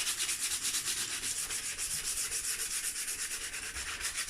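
Dirt bike plastics are wet sanded with 80 grit sandpaper, a steady rhythmic rubbing scrape repeating in quick back-and-forth strokes, close and alone with no talk.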